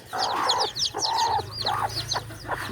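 Desi hens cluck steadily on a farm, joined by the high, repeated peeping of newly hatched chicks, close and fairly loud throughout with short pauses between bursts.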